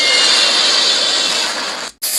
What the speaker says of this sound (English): Here comes the aeroplane.